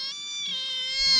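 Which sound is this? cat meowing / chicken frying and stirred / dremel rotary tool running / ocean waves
cat meowing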